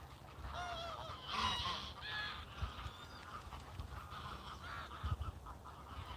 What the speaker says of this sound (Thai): ดูห่านอยู่สนามฟุตบอลนู้นนะคะ